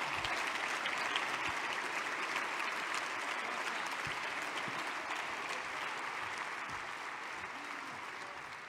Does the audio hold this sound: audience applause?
yes